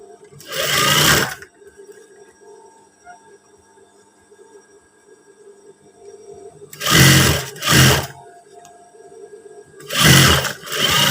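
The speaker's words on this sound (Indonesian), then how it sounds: "Terus kita jahit bagian besi samping antara badan belakang sama badan depan" A sewing machine stitches the side seam of a pair of trousers in loud, close bursts of whirring: one at the start, two quick runs around seven to eight seconds, and one near the end, with quiet pauses between them.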